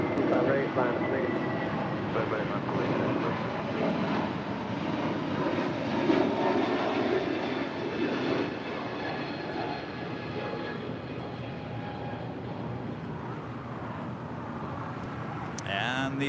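Airliner engines drone at LAX airport as a plane comes in on a short final approach, a broad, steady roar that swells slightly and then eases, with talk and radio chatter running over it.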